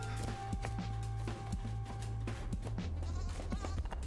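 A goat in the video game Creaks bleats repeatedly in short, wavering cries over a steady low hum, the calls close and fairly prominent with no talking.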